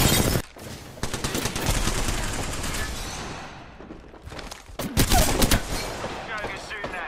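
Enemy gunfire in an Apex Legends ranked match: loud, rapid automatic bursts crackle close by, pause briefly, then return in heavy volleys, with game noise underneath.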